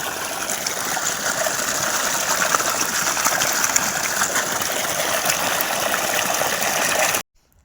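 Water from an irrigation pipe fed from five acres away gushes into a farm field in a steady, loud, close rushing roar that runs unbroken for about seven seconds before cutting off abruptly.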